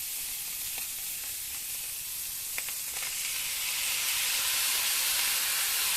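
Rice and vegetables with soy sauce and vinegar sizzle in a hot pan, a steady loud hiss with a few faint clicks of stirring, the frying growing slightly louder toward the end.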